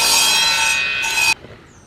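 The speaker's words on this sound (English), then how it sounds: "he's cutting a dado into the side of that 4x4 now" A continuous, steady cutting or rasping sound of a power tool cutting a dado into the side of a 4x4 runs loud for over a second and then stops abruptly.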